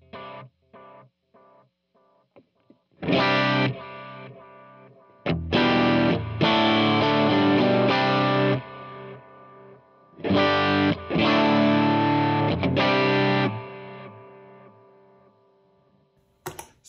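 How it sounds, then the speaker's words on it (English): Electric guitar played through a Strymon Iridium on a tape-style quarter-note delay: short picked notes and loud distorted strummed chords, each burst trailed by rhythmic repeating echoes that fade into quiet gaps. "This is a tape setting on a quarter note delay."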